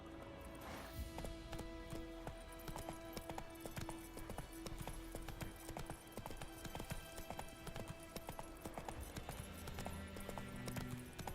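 Roach, Geralt's horse in the game The Witcher 3: Wild Hunt, trots with a steady, rhythmic clip-clop of hooves that carries on throughout, quiet and blended with background game sound.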